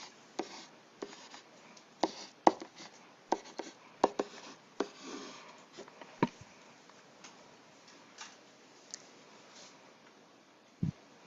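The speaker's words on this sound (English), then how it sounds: "So I'm going to start out writing my matrix." Someone writes out a matrix by hand with a pen or pencil, producing close, irregular tapping and scratching strokes with short pauses, some strokes sharper than others.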